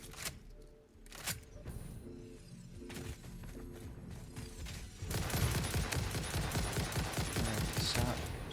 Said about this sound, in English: I'm being shot at by another creature somewhere